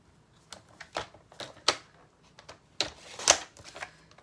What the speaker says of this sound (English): I'm going to cut this to 10 inches.